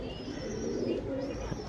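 A pair of sabja rakdar pigeons coos in a low, continuous murmur at close range, steady and soft throughout, with faint background noise and no clear speech.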